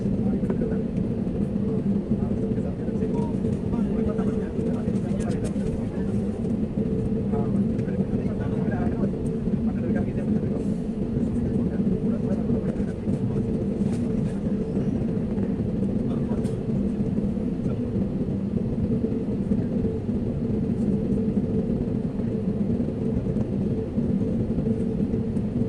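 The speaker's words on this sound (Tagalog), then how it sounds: "sinabi mo take off na ang plane" A passenger airplane taking off at an airport, heard from inside as a steady, loud engine roar and rumble that persists unchanged for the whole stretch.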